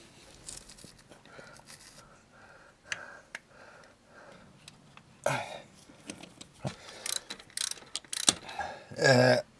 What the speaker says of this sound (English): torque it down with the old torque wrench here